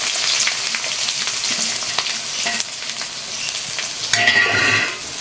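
Onions and green chillies fry in a pan, with a steady close sizzle and brief bursts of stirring scrapes, louder near the end and with no voices.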